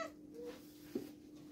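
A single cat gives a short, quiet meow, close by, in a brief clip with no speech.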